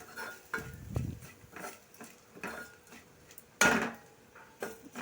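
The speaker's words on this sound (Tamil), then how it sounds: "மல்லித்தூள், தேவையான அளவு உப்பு போட்டு அதையும் நல்லா வதக்கிக்கணும்" Spoon scraping and tapping in a cooking pan as coriander powder and salt are stirred and fried for an okra tamarind curry, with soft, irregular clinks and one sharper clatter, quiet and close.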